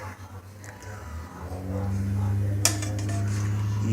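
Chicken and tomato being stirred in a pressure cooker: a spoon scrapes and clinks against the metal pot, with one sharper knock partway through, over a low steady hum and some talking.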